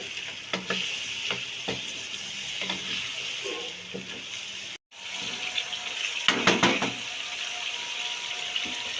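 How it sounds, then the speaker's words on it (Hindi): Finely chopped ginger fries with chicken in a pan for a creamy white chicken karahi, a steady hiss with intermittent spoon scrapes and clatters, briefly cut off midway before resuming, close up with no talking. "दो 3 मिनट के लिए हम इस तरह भूनेंगे इसे"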